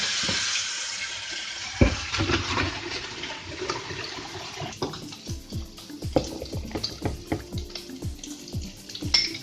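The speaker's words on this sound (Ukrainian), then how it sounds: "Вмикаю холодну воду." Cold water gushes steadily from a kitchen tap, splashing and spattering with small clinks and knocks of utensils over the running stream.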